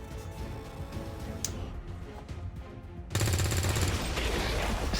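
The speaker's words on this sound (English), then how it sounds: "But you can shoot this barrel." A gunshot hits an explosive barrel in a video game, and from about three seconds in a loud, dense explosive roar spreads through the mix over ongoing game noise.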